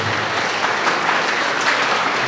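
Steady crowd clapping rings out at a patron saint festival honoring the Señor de San Cristóbal, a dense, even round of applause with no voices over it.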